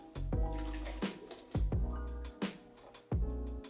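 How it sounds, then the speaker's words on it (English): Blended hazelnut milk poured through cheesecloth into a bowl, splashing and gurgling in several close surges with short pauses between. "Now I'm going to pour this into my bowl."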